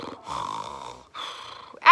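A voice imitates snoring during a read-aloud children's story set at a school, giving two drawn-out nasal breaths followed by a short loud snort.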